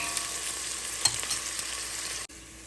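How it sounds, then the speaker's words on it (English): Sliced onions frying in a pan on lowered heat, a steady dense sizzle with a light stir or scrape partway through, close and continuous, cutting off abruptly near the end. "I'm going to turn the heat down and cook the onions until they're light golden brown"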